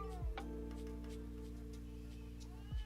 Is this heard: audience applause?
no